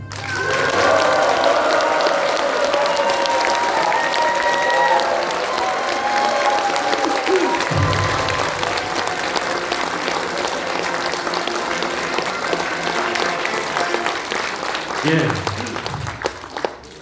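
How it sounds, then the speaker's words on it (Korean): Audience applause and cheering at the launch ceremony of a Korean political party ahead of an April general election, a loud, sustained wash of clapping from a large crowd with whoops over it, slowly easing, with voices and brief sounds near the end. "여러분들의 박수와 함성을 듣고 나니까"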